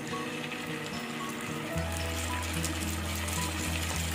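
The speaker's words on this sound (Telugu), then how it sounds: "ఆయిల్ హీట్ అయింది. ఈ చేపలు ఇందులో వేసుకుందాం." Fish, dried fish going by the dish being made, dropped into hot oil in a pan on a stove, hissing and sizzling with a steady low rumble that swells partway through.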